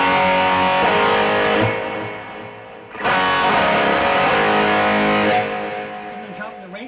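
An electric guitar plays through a BOSS eBand JS-10 effect with its rate set to 70, a loud, thick, distorted tone ringing out in two sustained strummed phrases with a brief gap between.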